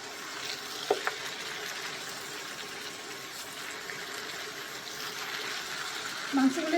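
Chunks of beef fry in hot oil with a steady low sizzle and faint bubbling, a brief utensil knock early on, and a voice talking over the cooking.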